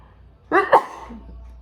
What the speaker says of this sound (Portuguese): Ai, espirrei